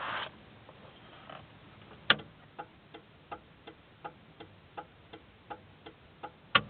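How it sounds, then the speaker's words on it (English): Direction indicator relay in a 1993 Kia Pride / Ford Festiva ticking at a steady, even rhythm, a dozen crisp close clicks with no talk over them. "Direction indicator sound"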